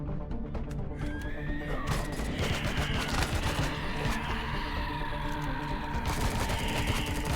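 Rapid gunfire bursts from weapons in the space-survival game Empyrion, dense and continuous over a busy layered game soundscape with whinny-like synthetic tones, no talking.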